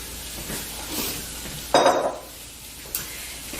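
Fresh herbs and spring onion are stirred into a frying pan for an Iranian dish: soft scraping and light sizzle, then a sharp clatter of utensil against the pan midway, with a quieter knock near the end.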